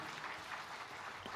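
Steady applause from a church congregation after a choir performance, a dense even clatter of many hands clapping throughout, moderately distant and without pauses.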